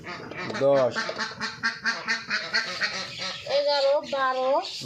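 A flock of about four hundred egg-laying ducks on a duck farm keeps up a loud, close chorus of overlapping quacks in rapid, uneven bursts.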